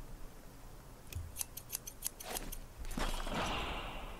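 Scissors cutting cloth in the game Oblivion: a quick run of about eight crisp snips, then a longer rasping slice, close and clear with no talking.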